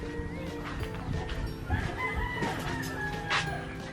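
Native chickens being slaughtered cluck and squawk loudly and continuously in distressed bursts, with a rooster-like crow rising over the noisy farmyard backdrop.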